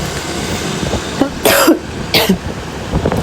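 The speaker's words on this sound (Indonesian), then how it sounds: "Aku jadi batuk-batuk sih." Two short, harsh coughs a half-second apart, close by, over a low rumbling background.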